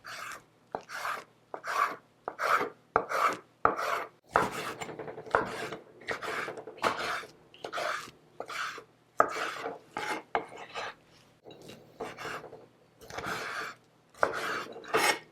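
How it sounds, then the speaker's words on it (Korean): A knife slices squid into thick pieces about 1 cm wide on a cutting board, making a steady run of close, evenly spaced raspy strokes with no talking. "한 1cm 정도 굵게 썰어주세요"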